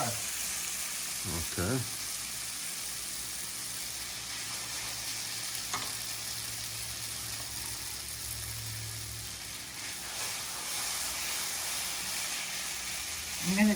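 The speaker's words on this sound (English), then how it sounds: "I'm going to take it out and put it in the butter and pepper." Cooked spaghetti tossed in a pan of butter and plenty of pepper: a steady, moderately loud sizzling hiss runs throughout, with a few soft scrapes and bumps of stirring, and a brief spoken word near the start.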